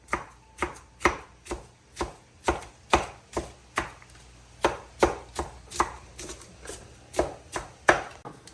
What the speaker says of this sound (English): Looks like we're going to be using a knife here in a second.